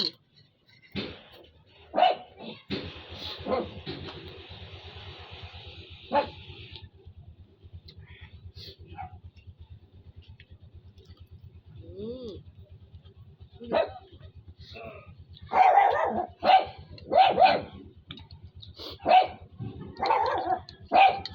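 A dog barks in short bursts, near and loud, with quieter stretches between; some background noise and brief voices in between.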